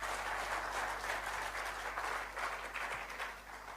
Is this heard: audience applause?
yes